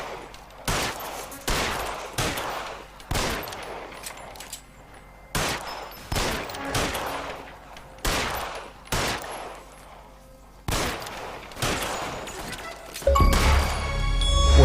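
Repeated gunshots ring out in the LA Noire remaster, a steady series of loud, sharp single shots about one per second, ending in a denser burst of noise.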